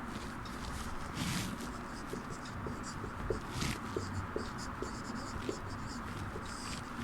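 Chalk scratches across a board in a classroom with short, quick strokes and taps, close and moderately loud, with faint room noise and no speech.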